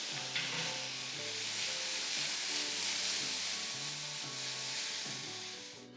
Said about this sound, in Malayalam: നന്നായിട്ട് സോഫ്റ്റ് ആകുന്ന വരെ സവാള കുക്ക് ചെയ്തെടുക്കാം